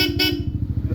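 A Yamaha Aerox V2.3 scooter horn gives a short, loud, close honk, followed by a low engine idle pulsing beneath it.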